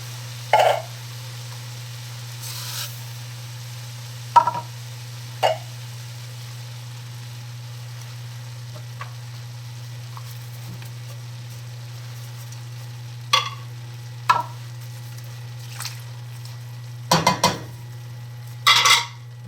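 Cooked vegetables for baked chop suey being added to a pan and mixed, with scattered clinks and scrapes of a utensil against the pan over a low steady hum, faint and intermittent.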